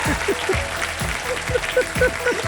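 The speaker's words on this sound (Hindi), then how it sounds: "जोरदार तालियां इस आदमी इस औरत के लिए।" A studio audience on a Hindi Wheel of Fortune game show claps steadily, with a rhythmic, bouncy musical sting playing under the applause.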